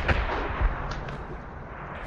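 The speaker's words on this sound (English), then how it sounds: "Thought you knew how to shoot a gun." Rifle shots ring out in the video game Days Gone, two sharp booming reports close together near the start, then a lingering low rumble.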